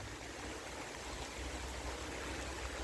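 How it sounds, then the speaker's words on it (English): Steady rain falls on an allotment as a dense, even hiss with no gaps or distinct drops, close and constant throughout. "So I think rain might well have stopped play here"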